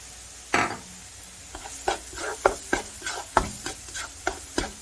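Onion sautés in a pan with a light sizzle beneath a series of sharp, close scrapes and knocks of a utensil stirring, about a dozen uneven strokes; no talking.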